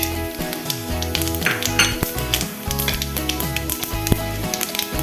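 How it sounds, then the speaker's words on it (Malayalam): Whole spices sizzle in hot oil in a pan on a gas stove for a restaurant-style dish, with a steady frying crackle, spoon stirring and metal clinks against the pan, close and continuous. "നമുക്ക് ചട്ടി അടുപ്പത്ത് വെച്ച് ഗ്യാസ് കത്തിച്ച് എണ്ണ ഒഴിച്ച് അതിലേക്ക് ആദ്യം"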